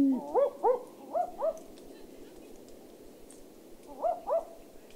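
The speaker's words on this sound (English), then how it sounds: "So here is a barking owl." A barking owl calls in short paired yelping hoots, a double 'wook-wook' repeated three times with pauses between, clear and fairly close against a quiet background.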